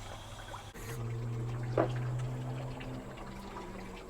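Water runs steadily from a hose spigot while a Chevy S10 2.8 cooling system is flushed at the thermostat housing. It makes a continuous pouring and trickling wash with a low steady hum underneath, close by, and no talk.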